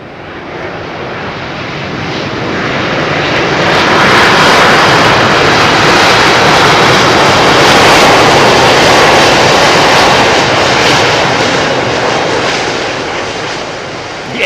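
An airliner landing at Heathrow with thrust reversers deployed roars loudly, the jet noise swelling to a sustained broadband rush before slowly easing off, with no voices.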